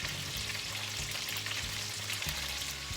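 Thinly sliced ingredient frying on top of garlic in a pan over medium-low heat, a steady close sizzle with crackling spits running through the whole stretch.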